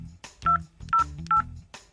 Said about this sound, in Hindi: इनको मिलाओ फोन।